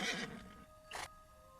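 A horse whinnies, a brief faint neigh followed by a second short burst, heard alone against a quiet background.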